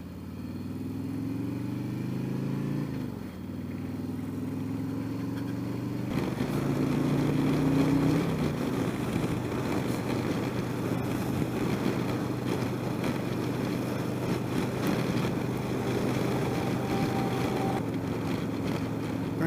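A 2017 Harley-Davidson Street Glide Special riding on a highway, its engine a steady low drone that climbs through the gears with rising tones, under constant wind rush.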